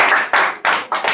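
Students in a spoken English class clap for a classmate who has just finished speaking: a short, close burst of group clapping in a few uneven surges, with no talking.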